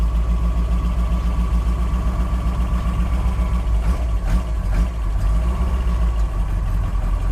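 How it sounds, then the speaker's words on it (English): A 1965 FIA-registered rally Mini Cooper S with an S-type inline 1275cc four-cylinder big-bore racing engine idles in neutral, a loud, steady, low throb that runs unbroken throughout. "it's powered by an S-type inline 1275cc 4-cylinder big bore racing engine"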